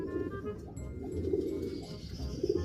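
A thin, injured pet pigeon coos softly in a few low, repeated phrases, close by, against a steady background hum.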